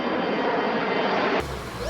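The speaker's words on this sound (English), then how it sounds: "Airplane, a flying machine that takes people across the world." An airplane flies overhead with a steady broadband engine roar, moderately loud and continuous, then cuts off abruptly into a different quieter background near the end.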